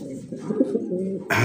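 Soft, throaty cooing from fancy pigeons close by, a low rolling murmur that continues briefly before a burst of noise at the end.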